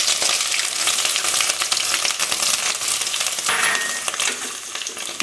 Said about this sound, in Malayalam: എണ്ണ ചൂടാകുമ്പോൾ 1 സ്പൂൺ കടുക് ഇടുക, 1/2 സ്പൂൺ ഉലുവ ഇടുക, ഇഞ്ചി ഇടാം.